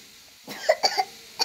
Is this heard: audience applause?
no